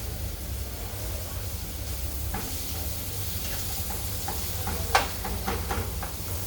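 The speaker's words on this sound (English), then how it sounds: "So we got the onions in there popping off." Steady sizzling hiss of onions frying in a pan, with a low hum underneath and a few faint ticks and pops.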